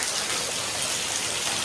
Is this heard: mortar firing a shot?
no